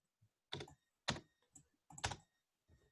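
Keystrokes on a computer keyboard while entering a dimension in CAD software, coming in several short bursts of clicks separated by brief pauses, close and fairly quiet, with no voices.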